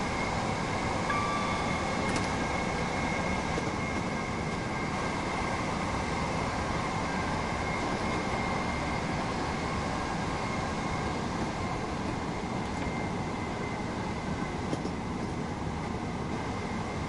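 A train in the Train Sim World game on the East Coastway route from Brighton to Eastbourne rolls slowly into a station, giving a steady, droning cab rumble with faint whines and no talk.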